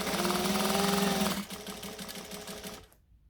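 Sewing machine stitching a jacket made from McCall's M6442 pattern, a loud steady mechanical whir that runs for about a second and a half, then drops to a softer rattle as the machine slows and stops.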